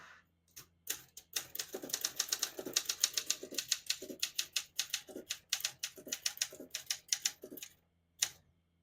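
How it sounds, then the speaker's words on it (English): Rapid keystrokes clack on a 1969 Olympia SM9 manual portable typewriter, a steady close run of sharp strikes with brief pauses and one final isolated hit after a gap, no voices. "That's how it goes when you type on a manual typewriter."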